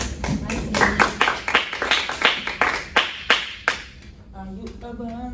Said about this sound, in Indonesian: Bisa kita beri tepuk tangan dulu untuk teman-temannya.